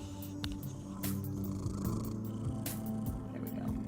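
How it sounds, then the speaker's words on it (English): Bartok the cat purrs right into a microphone, a close, deep, rumbling purr with a steady rhythmic flutter that swells and eases across the whole stretch, with no talk. "Now you get like kitty purrs"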